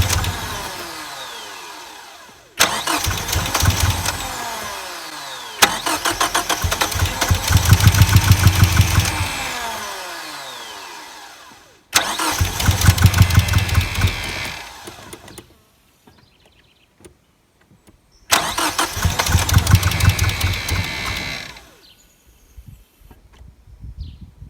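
A 1989 Ford Probe GT parts car cranks repeatedly in several separate bursts of rhythmic starter churning and engine turnover, each lasting a few seconds, separated by brief pauses of near quiet.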